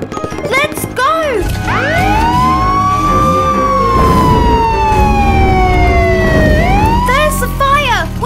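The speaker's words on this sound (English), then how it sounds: "Emergency, emergency! Let's go! To the fire engine!" Cartoon fire engine siren wailing loudly and steadily, rising and falling in a long sweep, with short whoops at the start and end.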